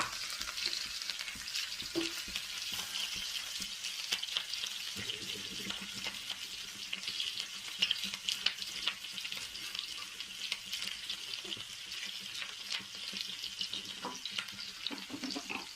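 Small onion petals fry briefly in a pan for chilli paneer, a continuous close crackling sizzle with scattered sharp pops and occasional stirring scrapes throughout.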